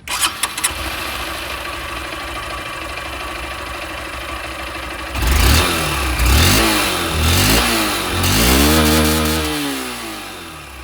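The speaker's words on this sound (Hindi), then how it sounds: "अब मैं आप लोगों को यहाँ पर जो रेगुलर एग्जॉस्ट SP 160 की इसकी भी आवाज़ सुना दूँ।" A Honda SP160 motorcycle with its regular stock exhaust blips through a series of sharp throttle revs, rising and falling loudly up close after a brief quieter stretch at the start.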